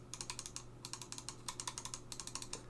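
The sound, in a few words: Roccat Burst Pro mouse left and right clicks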